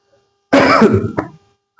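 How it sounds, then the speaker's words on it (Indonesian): One sharp, close cough bursts out loudly, followed by a brief second catch, then silence. "Batuk."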